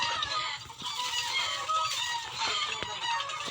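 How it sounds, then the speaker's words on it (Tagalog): Several chickens cluck and squawk repeatedly at close range, a busy, continuous farmyard chatter with occasional louder calls, under a video game being played. "Isa pa yung mga manok na sumasabay"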